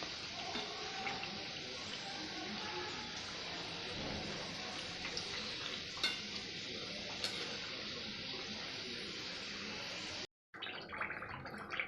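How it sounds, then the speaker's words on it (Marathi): Moong dal kachori deep fry in oil over a low flame, giving a steady, soft, continuous bubbling hiss that holds throughout with a brief dropout near the end. "यांना कमी गॅसवर तळायचं असल्यामुळे आपण त्यांना होऊ देऊया"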